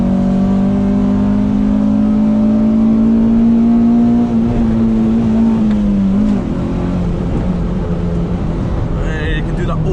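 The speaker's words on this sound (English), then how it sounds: "Hit the VTEC, uphill." A Honda Civic Type R EK9 engine revs hard into VTEC on an uphill road, a loud rising engine note climbing steadily, then easing slightly as it shifts near the end.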